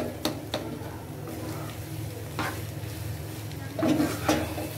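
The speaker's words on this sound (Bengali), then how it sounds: "তো এইভাবে করে আমরা ভাজতে থাকবো।" Taro (kochu) frying for halwa in a pan, with a low steady sizzle and occasional scrapes and taps of a spoon stirring, close and fairly quiet.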